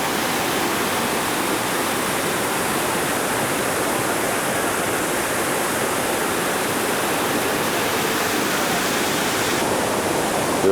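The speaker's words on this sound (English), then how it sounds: "Here we can see the river continuing to gush down the mountainside, or in this case, the hillside" A river on a hillside in Panama or Costa Rica gushes down past gardens in a steady, dense roar of rushing water, loud and constant throughout, with no voices.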